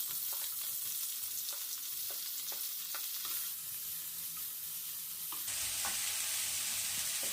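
Onions fry and sizzle in a pan while potato peas gravy is cooked, a steady close crackle with occasional stirring clicks and scrapes and no talk.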